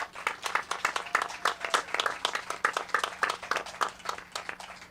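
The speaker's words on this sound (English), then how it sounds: "Another round of applause for our amazing committee" A crowd at a freethought day gathering applauds the event committee, giving sustained and evenly dense clapping with a faint steady hum underneath.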